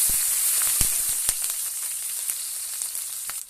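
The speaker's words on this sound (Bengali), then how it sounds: "ওই তেলের মধ্যে দিয়ে দেবো তেজপাতা, শুকনো লঙ্কা, 5 ফোঁটন, কয়েকটা কাঁচা লঙ্কা চিড়ে রাখা।" Bay leaf, dried and slit green chilies and five-spice sizzling in hot oil, a bright continuous close hiss with scattered sharp pops and crackles spread through the whole stretch.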